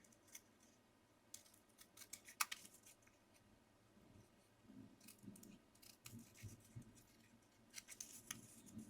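Scissors trimming paper for an Easter card, a series of quiet close snips and crisp cuts in irregular bursts with soft paper rustling between them.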